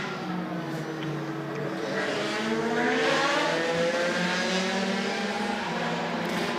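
Race car at the 2020 24 Hours of Le Mans pulling out of the pit lane after refuelling, its engine rising and revving steadily and loud throughout with a harsh, sustained roar and no talk.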